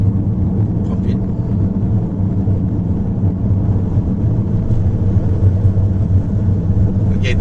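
A Rolls Royce Cullinan SUV cruising on a Malaysian highway, its low steady engine and road rumble droning evenly throughout with faint bits of talk inside the cabin.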